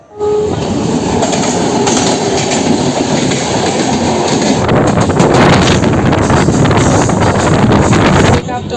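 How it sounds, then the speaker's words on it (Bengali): Loud rumbling of a local train rolling into Digha station, wheels clattering over the rails with heavy wind buffeting the microphone throughout. "আমাদের ট্রেন দীঘা স্টেশনে প্রবেশ করছে"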